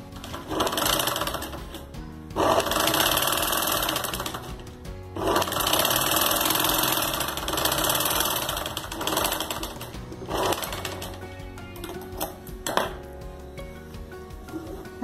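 A sewing machine stitches a zip onto a make-up brush pouch in long whirring runs with brief pauses between them, close and steady, with light clicks of handling.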